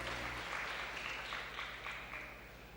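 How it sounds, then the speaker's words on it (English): An audience at an international agriculture and life sciences conference applauds a speaker called to the stage, a steady, fairly soft wash of many hands clapping throughout. "Please give a big applause to him."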